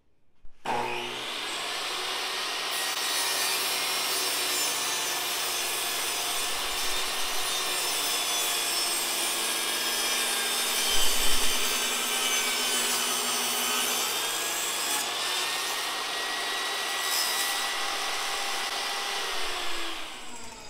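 A saw rips wooden toy log strips down to half an inch wide, producing a loud, steady cutting whine that runs for about twenty seconds with no talking.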